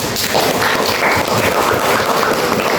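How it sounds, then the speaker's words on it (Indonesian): Classroom applause from a group of students, a dense steady patter of many hands clapping together, loud and sustained throughout with no talking. "Tepuk tangan untuk."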